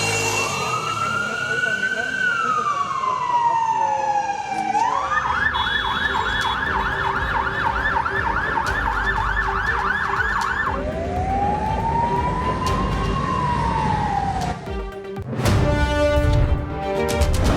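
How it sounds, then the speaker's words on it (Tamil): Ambulance sirens sound in Beirut streets amid the aftermath of explosions, a loud, close wail rising and falling, switching to a rapid yelp for several seconds, then returning to a slow wail before a burst of street noise. "திரும்பும் திசையெங்கும் ஆம்புலன்ஸ் சைரன்கள் ஒலித்தன"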